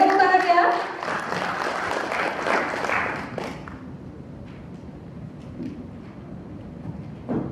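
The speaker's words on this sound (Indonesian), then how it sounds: "Boleh tepuk tangan ya?" Applause from an audience at an Indonesian seminar on the military's role against terrorism, a burst of clapping over the first few seconds that fades into quieter room noise with scattered sounds.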